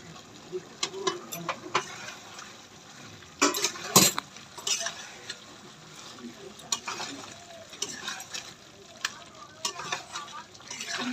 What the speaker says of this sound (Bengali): ভাজার পরে তারপরে আমি মশলাগুলো দিয়ে দেবো, আদা বাটা, রসুন বাটা, পেঁয়াজ বাটা দিয়ে একটু ভালো করে নাড়বো।